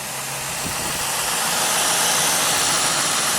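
A car engine runs steadily after being jumpstarted with a Hulkman 10.0 jump starter, with a loud, constant broadband whir and hiss close by and no talk.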